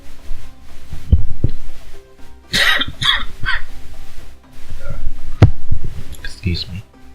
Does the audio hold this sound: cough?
yes